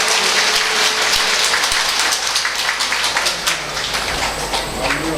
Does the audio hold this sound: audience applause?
yes